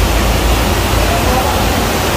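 Waterfall inside the Jovellar underground river roars as a steady, loud, dense wash of broadband noise that fills the whole stretch without a break.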